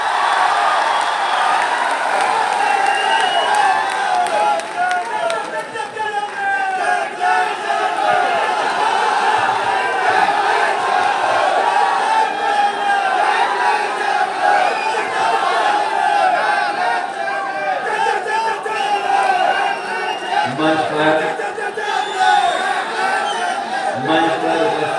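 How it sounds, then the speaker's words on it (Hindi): A large crowd roars and cheers continuously at a political rally marking Chaudhary Charan Singh's birth anniversary, a dense wash of voices that stays loud throughout, with shouting and some clapping mixed in. "तालियां ज्यादा, बजाइए"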